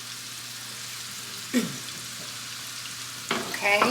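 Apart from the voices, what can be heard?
chopped mushroom stems sizzling in melted butter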